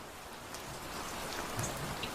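Steady rain pattering on surfaces, a constant even hiss of falling drops at moderate level with no other sounds.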